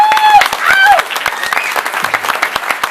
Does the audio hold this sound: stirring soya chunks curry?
no